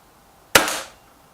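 A single sharp shot from a BSA TS Ultra air rifle, close and loud, cracking once and decaying quickly in a quiet setting.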